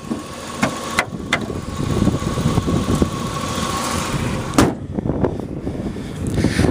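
A 1990 Mazda Miata MX5 engine at tick-over, a steady close idle rumble with wind buffeting the microphone and a few sharp knocks, needing new plugs and a service.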